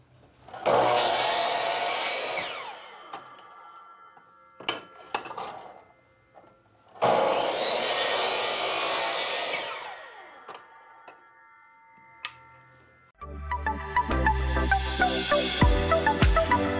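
A band saw cuts two pieces of wood in two loud, sustained passes separated by quieter handling knocks, then a rougher mechanical clatter at the end; no speech.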